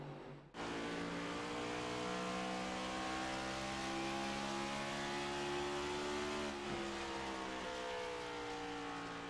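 A race car engine in the iRacing simulator at Iowa Speedway drones steadily at high revs with layered harmonic tones, loud and continuous, its pitch creeping slowly upward after a brief quiet start.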